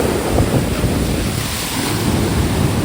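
Rough, swollen sea surging against the temple steps at Ganpatipule, a loud continuous roar of crashing waves with heavy wind buffeting the microphone.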